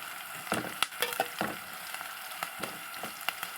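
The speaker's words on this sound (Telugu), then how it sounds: "ఉల్లిపాయలు కాలుతూ ఉంటాయి." Onions frying in a pan for a prawn and raw mango stew, a soft crackling sizzle broken by sharp stirring clatters and no talking.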